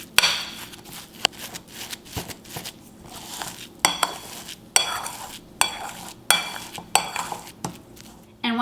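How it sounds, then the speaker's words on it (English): A utensil scrapes and knocks repeatedly against a bowl while mixing flax chip dough, in an irregular rhythm, close up, with small clinks between strokes. "And now we're gonna continue mixing it until it all comes together."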